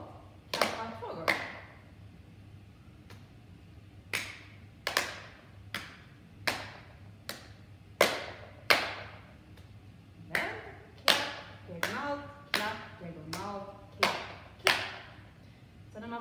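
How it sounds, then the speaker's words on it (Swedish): Hands clap together in a partner clapping rhyme game, about a dozen sharp claps at an uneven pace that speeds into quick doubles near the end. No voice is heard. "Klappa två gånger."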